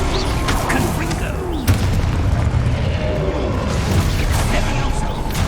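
A Confringo blast spell explodes in the video game Hogwarts Legacy, giving a loud, dense booming burst over a rumbling battle din, with a sharp hit partway through.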